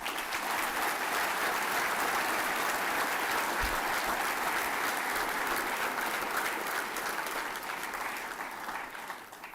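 A large audience at a 2022 prize-giving claps steadily, with dense, loud, sustained applause that fades slightly toward the end.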